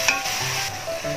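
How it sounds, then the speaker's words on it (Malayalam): Onions with salt sautéing in a pan for Kerala-style tapioca biryani, a steady close sizzle with a brief stirring scrape near the start. "ഇത് നന്നായി വഴറ്റിയെടുക്കാം."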